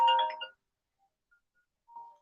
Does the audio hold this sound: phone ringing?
yes